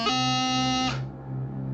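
A wind instrument sustains a bright, buzzy note with a strong harmonic stack, a stray low G slipping in just before a low A as a brief crossing noise between the two notes, played alone.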